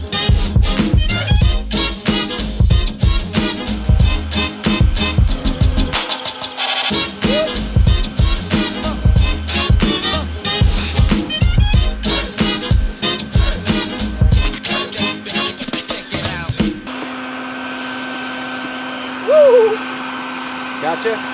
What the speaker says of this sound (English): it was a bee vacuum